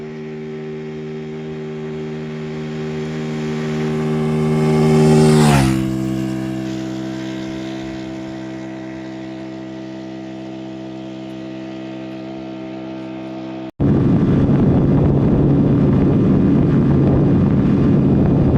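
Mustang car accelerates toward top speed, its engine whine climbing in pitch, peaking, then dropping through a gear change and holding a steady drone before the sound cuts to loud, broadband wind and road rush.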